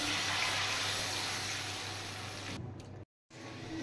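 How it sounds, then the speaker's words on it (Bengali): Water is poured steadily into a pan of Bengali hilsa fish curry with turmeric, a soft continuous splashing gush that cuts off abruptly near the end. "এবার দিয়ে দিচ্ছি জল।"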